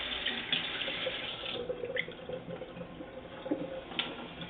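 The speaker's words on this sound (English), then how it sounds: "a little more water, swoosh it around in there, make sure you got it all" Tap water runs steadily into a pan, a continuous splashing gush with a few small splatters, fairly close and without voices.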